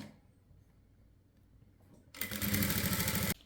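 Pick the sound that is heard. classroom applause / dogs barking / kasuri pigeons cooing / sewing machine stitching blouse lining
sewing machine stitching blouse lining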